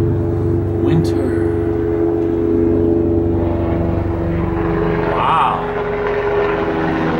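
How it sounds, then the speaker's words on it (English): A helicopter flying up a valley on a cold winter day, its steady low rotor drone sitting under the whole stretch of outdoor ambience, with a brief exclamation from a voice near the start. "The helicopters still fly by up the valley, up and down the valley"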